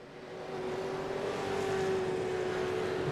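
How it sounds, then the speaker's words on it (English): A touring race car roars past at speed during a round of the Goodyear Autocare Warana SuperSeries, heard as a loud sustained engine drone that builds and holds as it passes on the track. "He's just been passed as though he was standing still by Sean McNamara."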